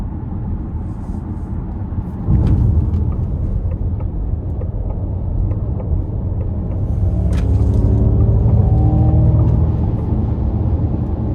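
A 2025 Ford Mustang Mach-E GT accelerates hard from inside the cabin, a deep steady rumble and road roar swelling in loudness, with a faint rising electric whine climbing in pitch over several seconds.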